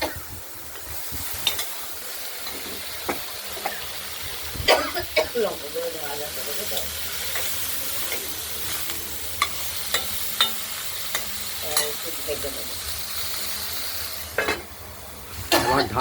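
Chopped pointed gourd fries with black cumin in a pan, a steady soft sizzle broken by scraping stirs and utensil knocks, with faint voices now and then.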